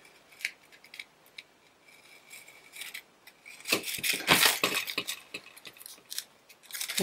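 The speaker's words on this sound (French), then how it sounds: "Je vais prendre un cutter. Je vais essayer de ne pas couper le ruban." A cutter knife slices open a package at close range, with small scrapes and clicks before a burst of crisp tearing and crinkling of wrapping, then lighter rustles.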